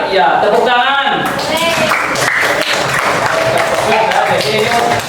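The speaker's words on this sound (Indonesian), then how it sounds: "tepuk tangan" A classroom audience clapping, a sustained burst of many hands applauding at close range, mixed with voices talking over the clapping.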